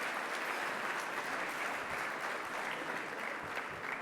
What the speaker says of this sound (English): Let's give her a big round of applause, welcoming Kim.